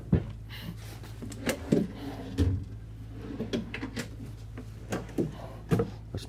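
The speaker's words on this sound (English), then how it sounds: "Big drawers that lock here." Large locking drawers in a 2025 Renegade Verona 40VTS motorhome slide and latch shut in a series of sharp, close knocks and thuds, spaced irregularly over a quiet room.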